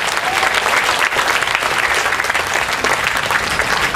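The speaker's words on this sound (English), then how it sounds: "Give yourself a clap." Roughly a thousand people at an outdoor protest clapping together, a steady, loud, close wash of applause lasting several seconds without pause.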